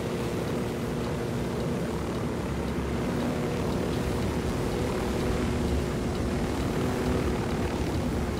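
A helicopter in the video game Ghost Recon Wildlands flies low overhead, producing a steady, loud rotor and engine drone that holds evenly across the whole stretch without breaks.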